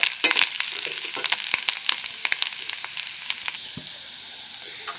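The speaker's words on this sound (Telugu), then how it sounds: "ఈ కారంలో ఉండే పచ్చివాసన పోయే వరకు ఫ్రై చేయండి." Drumstick leaves and chili powder fry in a pan with a close, crackling sizzle and quick spatula scrapes, the stirring easing off toward the end and leaving a steady hiss.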